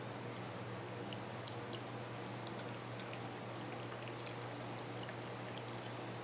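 Solvent poured into a wood-turning lathe chuck, a steady soft trickling pour with faint splashes over a constant low hum, continuous and quiet.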